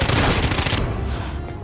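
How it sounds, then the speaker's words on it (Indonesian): Gunfire in a horror film: a loud, dense burst of rapid shots for under a second, then a fading echoing tail. "Philip menggantikan Francesca, menembak Grace."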